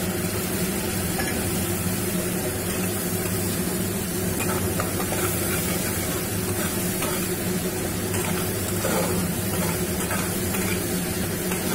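Soaked ground spice paste hits frying onions and tomatoes in the masala for a Bengali fish kofta curry, giving a loud, steady sizzle and hiss with faint stirring throughout, no voices.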